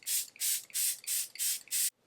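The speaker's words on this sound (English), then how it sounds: "I like to spray my face about halfway through my makeup and then spray it again at the end." Six quick, even spritzes of makeup setting spray are misted onto a face, each a short soft hiss in a steady rhythm, close and alone.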